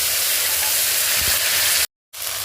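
Bay leaf, dried chilli, whole garam masala, panch phoron and ginger-cumin paste sizzle loudly in hot oil in a kadai as tempering for khichuri, a steady close frying hiss that cuts off abruptly near the end.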